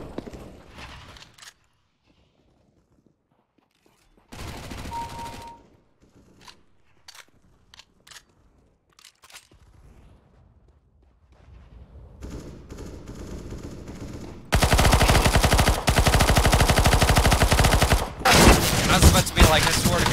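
AK-47 fire in a CS:GO round on Dust 2 comes as sporadic short shots and clicks separated by near silence, then erupts into several seconds of loud, continuous automatic gunfire.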